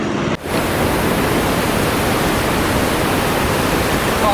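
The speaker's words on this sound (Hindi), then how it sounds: "पीछे नदी जा रही है बहुत सुंदर, और आवाज़ इस नदी की इतनी तेज़ आवाज़ है" A loud river rushes close by in a steady, unbroken roar of broadband water noise, with cold wind blowing over it, on a mountain road trip from Srinagar to Leh.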